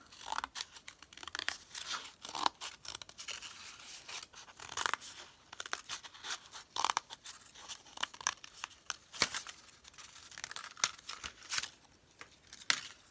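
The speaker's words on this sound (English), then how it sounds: "Now I'm going to go ahead and cut that out." Scissors snip and slice through paper for a craft project, with a string of close, crisp cuts and rustles separated by short pauses and no voice.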